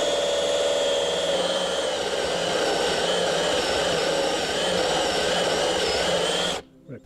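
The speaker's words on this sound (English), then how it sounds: "cutting through cement siding is tough on the drill" A power drill bores steadily through fiber cement house siding during a mini-split heat pump line-set installation, a loud continuous whining grind that holds for several seconds before stopping abruptly.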